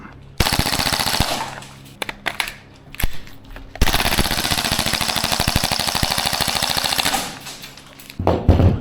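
A Maruyama SPC-9 gas blowback airsoft rifle fires two long, rapid full-auto bursts up close, each a dense rattling stream of sharp shots with a short pause between, then a brief restart at the end.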